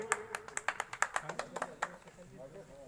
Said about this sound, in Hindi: और कृष्णा राम जी मेघवाल दोनों से आग्रह है और जोरदार ताली से अभिनंदन कीजिए, स्वागत कीजिए